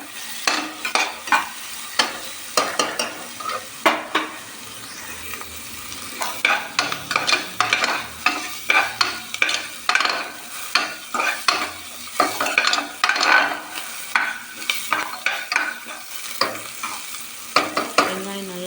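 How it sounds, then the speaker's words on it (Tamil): Onions with salt sautéing in a pan for country chicken curry: a steady sizzle broken by repeated scraping stirs of a spoon against the pan, close and fairly loud. "வெங்காயம் நல்லா வதங்கிடுச்சு."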